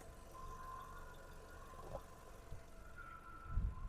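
A 2010 Volkswagen Caddy 1.6 MPI petrol engine idles quietly and evenly, smooth and without misfire, a low steady hum with a few soft thumps and no other sounds.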